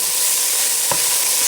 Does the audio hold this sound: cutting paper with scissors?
no